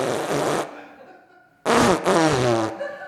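A sputtering fart noise in a live radio comedy show, two bursts: a short one, a pause, then a longer wet, buzzing blast, loud and close.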